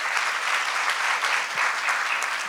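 An audience at a women leaders' business talk event applauds in a steady, full wash of clapping that is close and even from start to finish.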